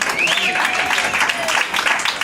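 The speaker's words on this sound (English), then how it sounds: "We give him a big round of applause." Applause from a jazz concert audience at a tribute concert, a dense steady wash of clapping with faint voices or whoops mixed in, moderately loud throughout the short burst.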